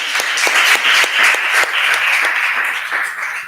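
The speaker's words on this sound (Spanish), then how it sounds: "cerramos esta sesión con un aplauso a Marco por esta presentación" Audience applause closing an evening talk session: a dense, steady wash of many hands clapping together, fairly loud and sustained throughout with no voices over it.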